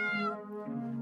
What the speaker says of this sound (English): It's not a good time to play with the cat.